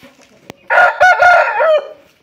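White bearded rooster of a special breeding line, a 3.4 kg cock in molt, crows once, close and loud, in a single drawn-out call lasting about a second after a brief click.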